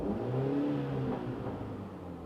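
Engine of a 2024 Mini Cooper Clubman JCW revving under throttle, a steady mid-pitched drone that swells slightly and then settles, heard fairly close with no talking.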